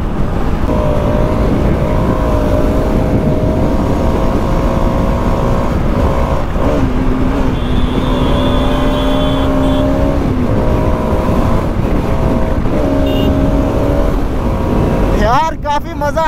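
Motorcycle on a highway ride accelerating at full power, engine note climbing and shifting through gears under heavy wind rush, loud and close, with a rider talking over it.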